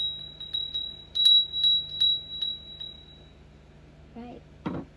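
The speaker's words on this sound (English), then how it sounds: "Let's ring the bell because we didn't let it linger." A small hand bell rung during a spiritualist cleansing ritual gives a series of clear, bright metallic strikes, each ringing out and fading, repeated quickly before dying away into a lingering tone, with a short voice sound near the end.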